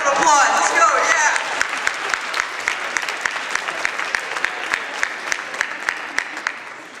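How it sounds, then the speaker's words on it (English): An audience at a college chapel event claps loudly, rising to a burst then settling into a looser run of distinct hand claps, with brief voices at the start. "Let's give a round of applause."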